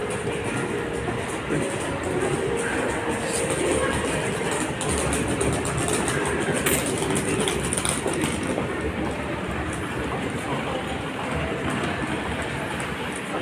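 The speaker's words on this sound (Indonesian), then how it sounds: "kereta api ke airport" A subway train rumbles steadily along with rattling, clacking wheel noise and a faint high whine, continuous and close throughout, on an airport line in Fukuoka, Japan.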